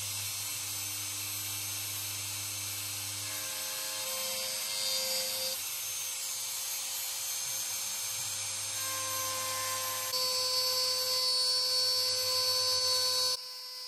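Dremel 4200 rotary tool shaping a wooden bicycle stand piece, a continuous high whine that shifts in pitch as the bit bites and eases, close and steady for the whole stretch before cutting off.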